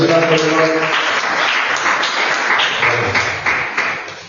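A church congregation applauds and cheers the Lord during a service, steady clapping and voices filling the room throughout, with people talking over it.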